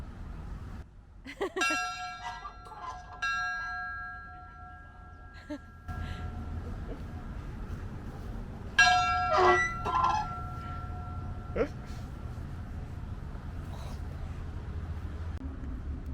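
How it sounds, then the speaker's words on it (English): An old schoolyard bell is rung in a few separate bursts, each a bright metallic clang that rings on and fades. Outdoor background noise runs underneath. "ring the bell"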